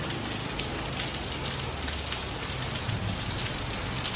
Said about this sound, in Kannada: ಮಳೆ ನಿಲ್ತಾನೇ ಇಲ್ಲ ಮಳೆ ಅಂದರೆ ಮಳೆ